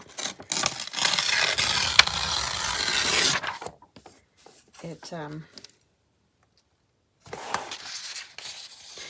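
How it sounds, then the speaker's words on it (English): Paper being torn to size by hand for an altered book journal, heard as a long rough ripping and rubbing stretch, then a few short tears after a pause and a final burst of tearing. It is close and fairly loud, with no talking. "I'm going to tear this to size"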